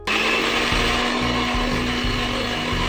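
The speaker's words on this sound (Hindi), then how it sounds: "हम इस मैंगो को अच्छे से ब्लेंड करके इसकी प्यूरी बना लेंगे।" Kitchen blender whirring steadily as it purees fresh mango pieces, a loud continuous motor drone with a fixed hum and shifting low churning pulses as the fruit tumbles, no voices.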